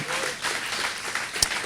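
A church congregation claps briefly during a sermon, a short busy patter of hands with a sharper clap standing out near the end, and a faint voice mixed in.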